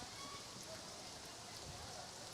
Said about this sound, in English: it's a pretty good rain falling right now